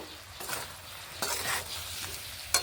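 Winter vegetables cooking in a pan, stirred with a spatula: a low steady sizzle punctuated by a few scraping strokes and a final sharp clink of utensil on pan, up close with no talk.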